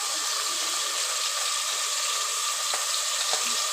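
Eggplant and potato cook in a pan with a continuous, close hissing sizzle, steady throughout with faint crackles and no talking.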